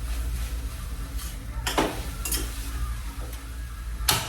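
Carrots for gajar halwa roast in a pan with a soft, steady sizzle. A few brief, sharp spatula scrapes and knocks against the pan break in at intervals.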